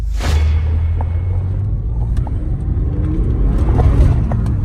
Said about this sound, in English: that lights up the tyres quickly